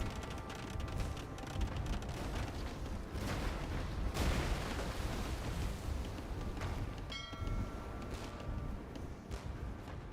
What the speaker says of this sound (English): And on the land, bombard cannons still sniping back and forth at each other.